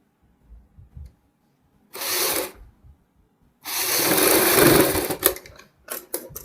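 A sewing machine stitches a kurti hem in short bursts: a brief run, a pause, then a longer steady whir, followed by a few quick stop-start stitches.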